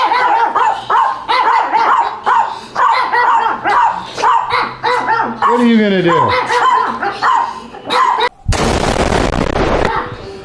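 A small dog barks repeatedly and sharply close by on a farm, the yaps coming in quick bursts over people talking nearby.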